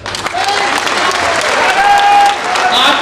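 Sustained applause from a large audience at a public speech, dense steady clapping filling the whole span with crowd noise, a faint tonal whine running through the middle.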